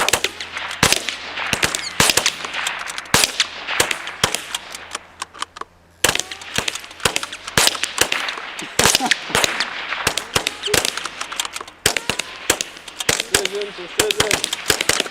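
Gunfire on the firing line of a rifle shooting match course of fire, dense rapid shots from many shooters cracking loudly and continuously over fifteen seconds, near and distant reports overlapping with brief gaps.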